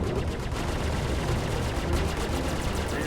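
Rapid weapon fire striking a ship's shields during a Tarantula and Sabre squad battle in Star Citizen, a dense, continuous rattling barrage at steady loudness.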